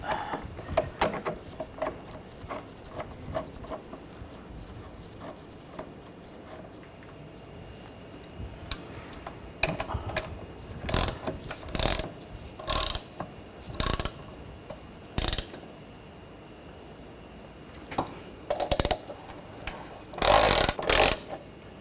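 A ratchet tightening bolts on a Ford Escape engine torque strut mount, with quiet clicking and rubbing followed by bursts of loud ratcheting toward the end, no talk.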